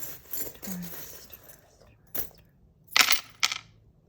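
Small metal charms, keys among them, drop and clink onto a surface during a charm-casting reading: scattered light jingles, then two sharper bright clatters near the end, with brief soft vocal sounds between.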